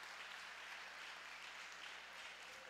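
Worshippers in a church clap together in a steady, even stream of many hands, moderately quiet and unbroken for a few seconds with no clear speech.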